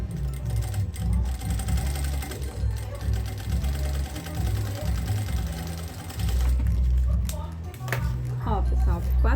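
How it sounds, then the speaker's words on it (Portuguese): A sewing machine stitches the edging of a fabric vaccination card holder in a fast, close, rhythmic whir with brief pauses, while someone talks over it. "E agora aqui embaixo eu só vou cortar o excesso e fazer a costura também rebatendo em toda a volta."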